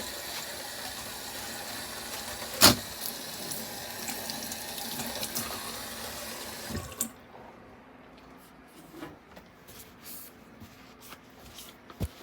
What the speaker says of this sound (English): Let's wash our scissors up.